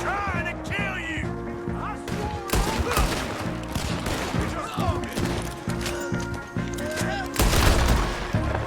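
Gunfire in the Western game Red Dead Redemption 2, a busy firefight of repeated close and distant shots with crashes and thuds, over shouting voices.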